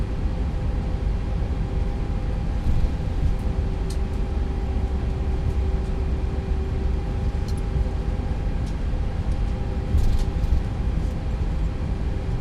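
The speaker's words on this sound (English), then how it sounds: "So on the climb out, it's pretty much clean engine sounds." IAE engines of an Airbus A320 climbing out in a flight simulator: a steady, loud, low cabin drone with a constant whining tone layered over it, continuous throughout with no talking.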